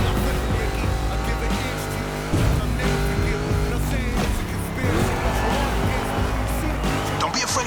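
Monster trucks race in the video game The Crew Motorfest, with loud continuous engine roar, revving shifts and tire squeals and skids throughout, close and busy.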